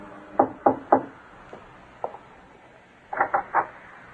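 Knocks on a wooden studio door in a Greenwich Village building, a radio drama effect: a crisp group of three raps, two softer single taps, then another group of three, close and alone.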